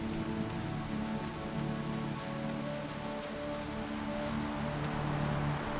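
Steady rain falls on a city, a dense, continuous hiss of drops hitting surfaces with no voices, holding at an even level throughout.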